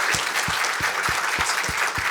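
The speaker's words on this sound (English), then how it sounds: "And a final round of applause" Audience applause after a science talk at Science World 2019 in Leicester: a dense, steady round of clapping from a crowd filling the hall, continuous throughout with no voices standing out.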